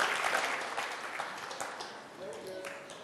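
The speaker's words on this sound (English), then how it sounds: "We're going to clap for you, okay?" An audience claps in a church service, a dense patter of hands that fades somewhat as a voice speaks over it.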